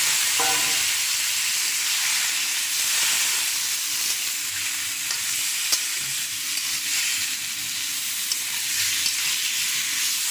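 Vegetable stalks with a splash of water sizzle in a pan for a prawn and stalk curry, a steady loud hiss with faint stirring noises underneath throughout.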